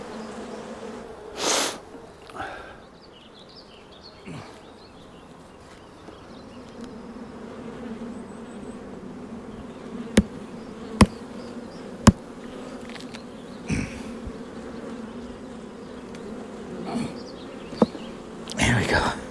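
Honey bees humming steadily around open hives at an Irish apiary, a constant soft buzz close by, broken by sharp clicks and knocks from hive handling and a few brief louder bursts.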